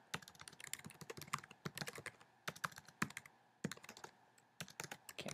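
Fingers typing on a computer keyboard: quick, close, rapid clatter of keystrokes in bursts, with short pauses between runs, and no voices.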